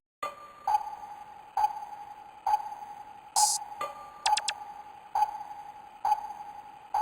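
A gritty, lo-fi bit-crushed synth pulse repeats in a steady rhythm, each hit trailing into a wide, spacious reverb echo, with a few brief bright chirps midway, in a dark trap beat.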